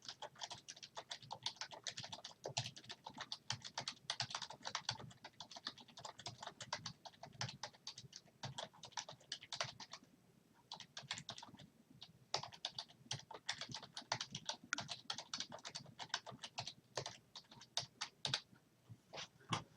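Steady typing on a computer keyboard, rapid close clicking keystrokes in bursts with brief pauses, quiet and alone with no talk.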